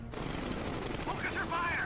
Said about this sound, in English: Wow, look at his health go down on the top of these dual miniguns